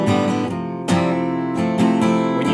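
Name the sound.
open strummed guitar chords, louder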